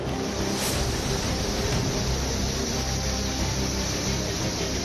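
Loud, steady floodwater rushes through city streets in Junagadh, Gujarat, roaring continuously, a broad churning wash with no pauses and no voices.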